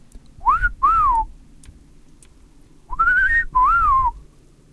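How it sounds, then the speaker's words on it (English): A cat-calling whistle is produced twice, each time a pair of bright, close notes swooping up and then down, separated by a pause of near silence. "Can I do the cat calling whistle?"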